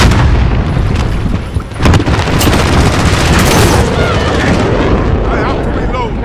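Heavy artillery fire strike in Call of Duty: Modern Warfare, with loud, continuous booming and rumbling blasts that run through the whole stretch, a sharper burst near the middle and voices underneath.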